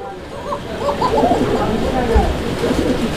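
Fancy pigeons coo in soft, repeated low murmurs, including a red three-bar pigeon and a black Shalik Koka, amid steady chatter and background speech close by.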